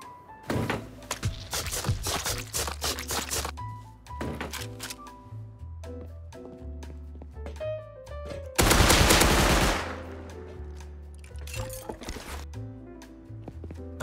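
MP5 submachine gun sprayed in a video game raid: rapid clusters of sharp shots, with a loud sustained burst midway, over a steady tonal background.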